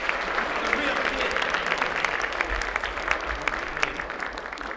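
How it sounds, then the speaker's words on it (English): Outdoor busker festival crowd giving a sustained burst of applause and scattered cheers, steady and fairly even, with a performer's voice faintly heard over it. "Let me see a big applause."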